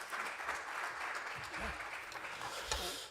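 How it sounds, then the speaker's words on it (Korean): Applause at a church vision-declaration ceremony welcoming a pastor to the stage, a soft, steady patter of many hands, fairly distant and quiet, with a low rumble underneath. "박수로 맞아주십시오."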